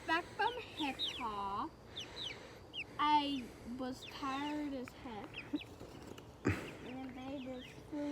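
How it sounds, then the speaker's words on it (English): Chickens and a duck cluck and squawk in short bursts close by, with people talking over and between the calls throughout. "That's a duck. This is a chicken."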